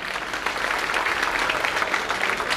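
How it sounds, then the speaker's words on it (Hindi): Audience applause at a Kargil Victory Day tribute honouring fallen soldiers, a dense, steady wash of many hands clapping throughout, moderately loud and continuous with no voices standing out. "उनकी स्मृति में जोरदार तालियां।"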